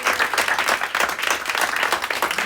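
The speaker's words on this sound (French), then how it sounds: "je vous demande de vous applaudir" Audience applause at a debate event, a dense, steady patter of many hands clapping close by, continuous for a few seconds with no speech over it.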